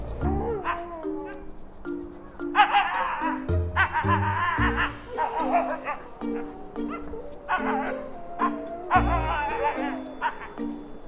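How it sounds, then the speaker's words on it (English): Small fluffy dog in Finland yipping, barking and whimpering in repeated bursts close by, with people talking and laughing around it. "He's a polite dog."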